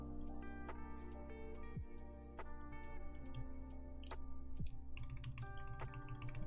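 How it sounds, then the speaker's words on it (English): Keys clack on a CW88 mechanical keyboard, including the left shift, in a close, quiet series of irregular taps and clicks under a steady low background hum. "you can see if left shift just sounds horrible or not"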